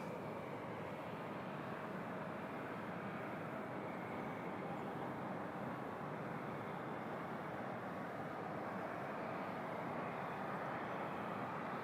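An Air France airliner rolling for takeoff at Toronto Pearson, a steady distant roar of jet engines building and holding as a broad rumble throughout, with no talk.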